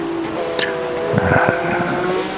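A Porsche Cup car laps Hockenheim in a racing game, its engine a steady, loud drone with a brief rising rev, plus tonal whines and faint rumbling.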